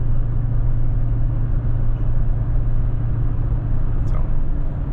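Chevrolet Trailblazer cruising after inner and outer tie rod replacement, a steady low engine and road rumble from inside the cabin, with a faint voice murmuring underneath.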